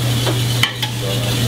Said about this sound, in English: we are going to add the herb coconut sauce